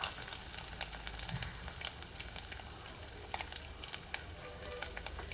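Small coconut pieces frying in oil for a Kerala-style onion curry give a steady, soft, crackling sizzle throughout, with no talking.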